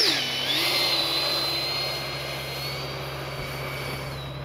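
A 70mm electric ducted-fan RC F-16 jet flies past under power, its loud whining turbine tone sweeping down in pitch then holding a steady high whine as it moves away.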